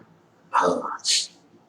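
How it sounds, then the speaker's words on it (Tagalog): A single sharp, explosive cough-like burst, loud and close, followed by a brief breathy exhale, then quiet. "Sensyahan nyo na yung aking ubo"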